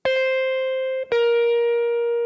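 Slower pull-offs on an electric blues guitar. A bright sustained note rings for about a second, then a plucked pull-off drops it to a lower note that holds and rings out clearly with no other sound.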